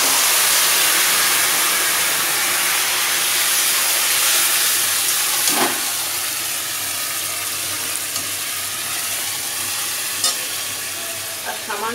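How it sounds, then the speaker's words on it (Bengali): Greens hit red-fried onions in a hot pan, setting off a loud, continuous sizzle and hiss with a few scraping stirs, close and steady for the whole stretch. "এবার আমি শাকটা একদম পুরো সময় ঢেলে দিলাম।"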